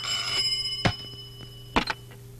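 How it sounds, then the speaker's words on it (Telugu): A telephone rings in a few short, separated bursts at home, with a steady electronic hum underneath and no one speaking. "ఫోన్ మోగుతోంది కదరా బుజ్జి"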